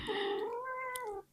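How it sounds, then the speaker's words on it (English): A pet cat gives a single drawn-out meow lasting just over a second, close and clear, with no talk over it. "That's my cat"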